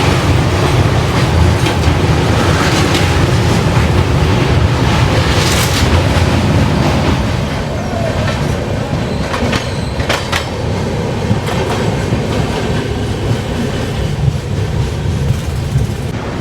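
Patna Udaipur Humsafar Express running over the Yamuna river bridge at Mathura, a loud steady rumble of wheels and rails with rattling carriages and wind buffeting the microphone, the roar easing slightly partway through.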